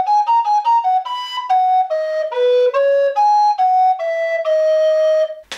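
A recorder plays a short melodic phrase, each note tongued evenly with the same crisp attack, clear and close, without any talking.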